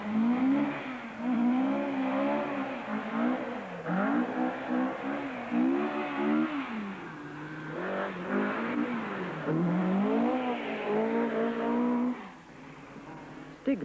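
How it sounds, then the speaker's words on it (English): A Saab Turbo rally car drives a twisty tarmac stage, its engine revving and dropping repeatedly through gear changes and corners, loud and close throughout. "Stig Blomqvist follows the accepted line in the Saab Turbo"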